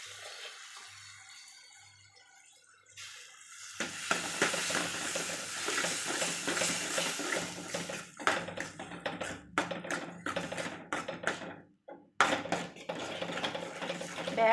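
Cooked greens go into dal in a pot and are stirred, making wet sloshing and scraping with clattering utensil knocks after a quiet start, close and moderately loud.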